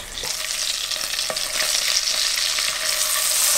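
Salted fish nasi goreng with sweet thick soy sauce sizzles loudly in a hot pan as it is stirred, a dense continuous frying hiss with a few scraping strokes of the utensil, close and alone.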